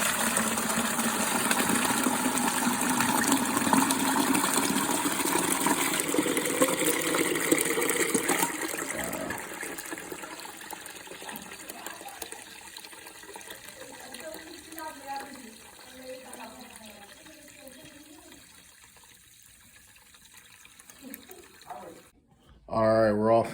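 Dirty water from a carpet cleaning machine flows in a continuous rushing gush, loud at first and then easing into quieter trickling and gurgling.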